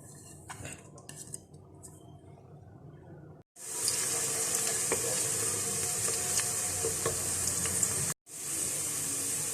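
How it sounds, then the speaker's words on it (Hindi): Two sliced onions dropped into a cup of hot oil in a pressure cooker, starting with light clinks and stirring, then a loud, steady close sizzle that runs continuously with one brief break. "प्रेशर कुकर के अंदर 1 कप ऑयल शामिल करेंगे और इसके अंदर मैं 2 दरमियाने प्याज स्लाइस करके ये डाल दूंगी ताकि लाइट ब्राउन हो जाए"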